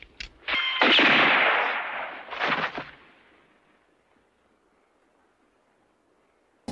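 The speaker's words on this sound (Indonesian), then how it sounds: "dengan satu tembakan presisi" A single loud pistol shot cracks out, followed by a second burst and a long fading echo that trails off into near silence.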